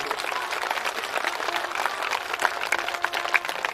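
Audience applause during a religious katha recitation, a fairly soft, sustained patter of many hands clapping at some distance, with faint voices mixed in.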